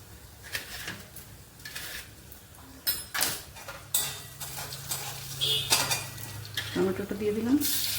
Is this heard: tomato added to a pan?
yes